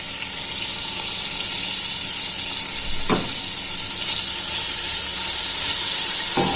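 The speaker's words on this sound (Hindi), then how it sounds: "अब इस प्याज के पेस्ट को इसमें लाइट गोल्डन ब्राउन कलर आने तक फ्राई कर लेना है।" Onion paste frying in oil with cumin for a black chickpea curry, a steady close sizzle and hiss with a couple of brief stirring scrapes, no talking.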